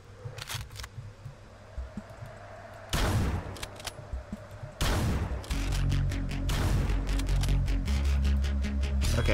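Gunfire in Hotline Miami: Wrong Number, with scattered sharp shots early, then two loud bursts around the middle and a busy stretch of rapid shots layered over steady game music, fairly close and punchy.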